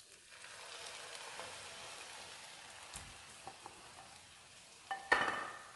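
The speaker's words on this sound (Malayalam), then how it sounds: "നന്നായി മിക്സ് ചെയ്ത് കൊടുക്കുക." Kothu parotta with chicken gravy is stirred in a pan, giving a faint, soft scraping and sizzling texture with a few light taps, then a sharper clatter of the spatula near the end.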